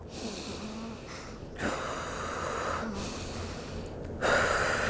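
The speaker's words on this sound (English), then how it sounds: "That's how I was breathing." A woman in unmedicated labor breathing heavily and deliberately through contractions, long steady breaths with sharper gasping inhales, close and alone without talk.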